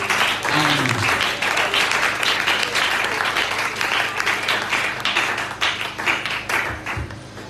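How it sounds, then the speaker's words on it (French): A church congregation applauds together at a morning service, a dense sustained wash of many hands clapping loudly throughout, with a brief low voice near the start. "Nous acclamons encore pour le Seigneur Jésus-Christ"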